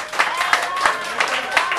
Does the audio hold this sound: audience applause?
yes